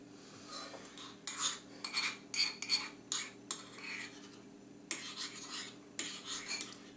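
A spoon stirs a vanilla egg white mixture in a bowl, making soft scraping and clinking strokes in uneven bursts over a quiet steady hum.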